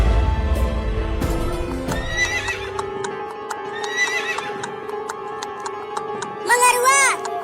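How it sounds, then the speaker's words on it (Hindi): Cartoon horses neigh in several bright whinnies, with a final loud whinny near the end, over steady clip-clopping hooves. Background music plays throughout. "तो घोड़े तैयार करो, आज रात हम गांव में चोरी करने चलेंगे"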